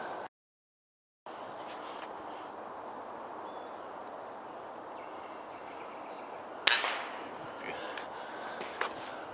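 A single airgun shot at a squirrel during an early morning hunt outdoors, a sharp crack standing out once against steady outdoor ambience, followed by a few faint clicks and rustles.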